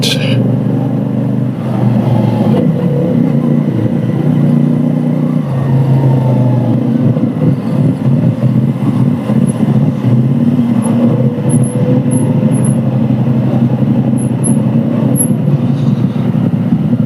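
Dense car traffic on a road in Malaysia heard from a CFMOTO 450SR motorcycle, with a loud constant engine and wind roar, passing vehicles and occasional faint high horn-like tones.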